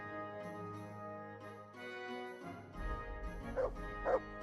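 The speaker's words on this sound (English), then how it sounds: "What are you barking at pebbles for?" Pebbles the dog in Kingdom Come: Deliverance II gives a few short yips and barks with a faint whimper over a droning in-game music and ambience bed, the barks clustered toward the end.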